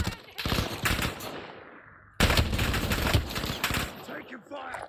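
Bursts of automatic gunfire crackle through a squad-based military shooter match, loud and close, with a short gap before the rapid firing resumes; voices talk over the shots.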